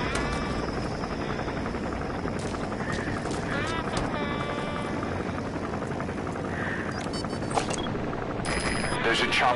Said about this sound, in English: There's a chopper landing.